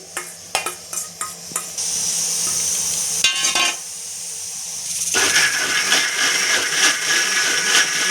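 A mixer grinder blends gurugaaku greens in a large jar, starting with a handful of short, sharp pulses before settling into a loud, continuous whirring grind that shifts pitch partway through.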